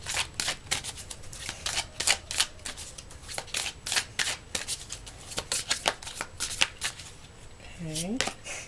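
Oracle cards are shuffled and handled in repeated crisp bursts of riffling and flicking, close and fairly quiet, with a brief voice near the end.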